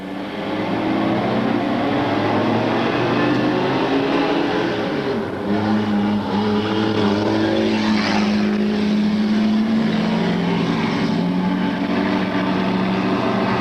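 Race cars roaring away together after the green flag at a short oval, a continuous layered engine drone with shifting pitches that stays loud throughout.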